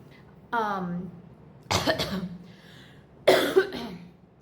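A few harsh coughs break out one after another, spaced about a second apart, close and fairly loud against a quiet room.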